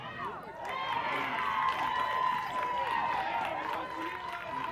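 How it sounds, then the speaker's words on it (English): Crowd noise from a ballpark complex with several baseball fields in use, a steady wash of voices and cheering held at a distance for the whole stretch, with no single shout standing out. "You could probably hear the cheering of the crowd behind us."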